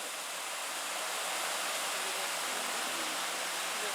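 Waterfall in Dogwood Canyon Nature Park, Missouri, a steady broadband rush of falling water, continuous and moderately distant with no voices.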